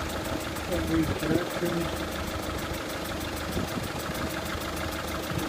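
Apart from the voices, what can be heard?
Citroen Picasso 1.6 diesel engine starting and running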